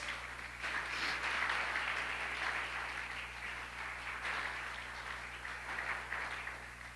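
Steady applause from a church congregation, fairly faint and distant, continuing evenly for several seconds without voices over it.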